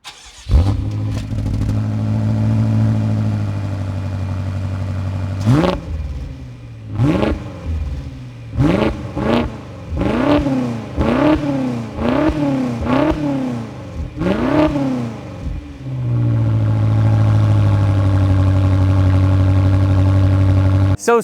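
A 2015 BMW X6M (F86) idles with a steady low rumble, then its engine is blipped in a series of sharp revs rising and falling one after another before it settles back to a smooth, loud idle.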